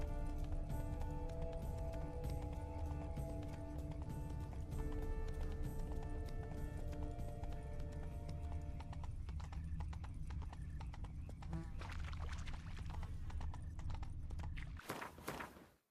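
Horses gallop in The Witcher 3: Wild Hunt, Blood and Wine, a fast steady clip-clop of hooves over sustained background music, ending in a sudden loud burst.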